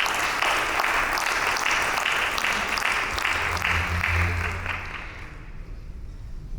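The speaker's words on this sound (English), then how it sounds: "Big round of applause for that." A crowd at a business investor awareness session claps loudly and steadily for several seconds after an award announcement before the applause tapers off and fades.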